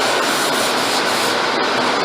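Close, continuous hand sanding of a wood finish with 320 grit paper gives a steady, loud abrasive rubbing with a faint back-and-forth pulse and no voices.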